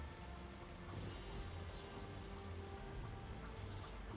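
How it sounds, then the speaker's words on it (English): Distant thunderstorm on the lush frontier world Virmire in Mass Effect, a steady rain-like wash with low, far-off rumbling throughout, quiet and without talk. "Oh, and thunderstorms off in the distance?"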